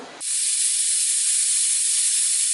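A pressure cooker whistle bursts into a loud, sustained hiss of escaping steam after a brief quiet start, holding steady to the end while sambar rice cooks.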